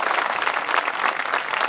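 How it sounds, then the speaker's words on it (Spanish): Audience at a heritage-day talk on the Chilean horse clapping loudly and continuously, a close, dense burst of hands with no speech over it. "repitamos el aplauso, que eso es muy lindo."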